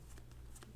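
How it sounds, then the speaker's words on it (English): A playing card drawn from a deck during a Flesh and Blood card game, a few quick soft papery flicks and slides, faint and close. "drawing a card"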